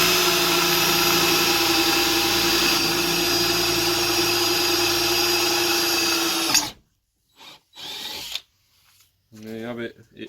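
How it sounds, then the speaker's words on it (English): A power drill whines steadily and loudly for several seconds drilling a hole in a Toyota Corolla E12 seat rail, then cuts off, followed by a few brief clunks and short noises. "you can drill pretty square in the middle"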